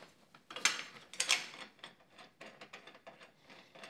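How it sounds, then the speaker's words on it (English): A ratchet tightens handguard bolts on a Beta Xtrainer 300 motorbike, making short, quiet bursts of rapid clicking close by, with a couple of stronger clusters early on followed by lighter ticking. "just torque them up to whatever your motorbike specs are"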